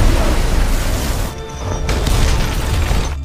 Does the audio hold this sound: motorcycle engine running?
no